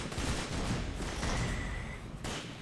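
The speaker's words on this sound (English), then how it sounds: "I hear guns in the distance." Gunfire in a Roblox video game, a dense rattling burst of shots that sounds distant and muffled, continuous for a couple of seconds with a thud near the end.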